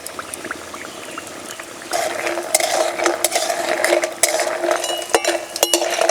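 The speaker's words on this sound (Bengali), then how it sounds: "ভেজে নেব বড়ি।" Lentil dumplings (bori) frying in white oil, a steady close sizzle and bubbling that grows louder partway through, with occasional clicks and scrapes of a utensil in the pan.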